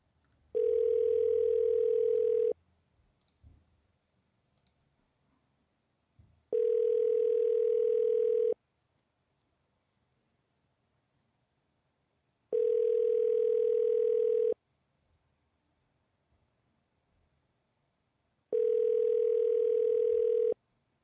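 A telephone ringback tone sounds before a call goes to voicemail, four steady two-second tones separated by about four seconds of near silence, clear and close.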